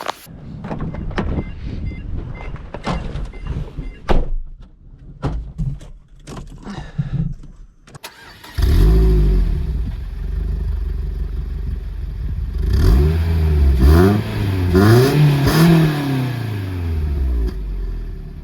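A Peugeot 206 S16 is handled with door and interior clatter first, then its engine starts with a loud rumble and settles into an idle before being revved in several rising and falling surges.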